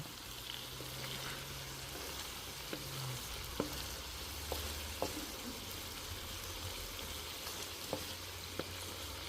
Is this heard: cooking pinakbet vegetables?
yes